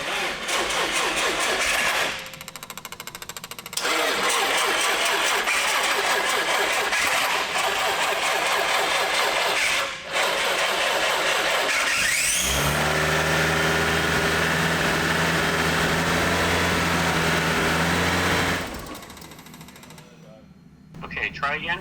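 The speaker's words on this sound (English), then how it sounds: "go ahead and see if it wants to start and idle" A Nissan 180SX cranking and firing up, its engine catching and settling into a loud, steady idle, the roar broken by a few brief dips before cutting out near the end.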